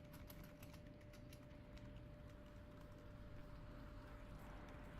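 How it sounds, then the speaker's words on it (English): Quiet, rapid keyboard clicks from a video game sound effect tap away over a steady low hum, faint and distant, with no talking. "you can hear the keyboard going"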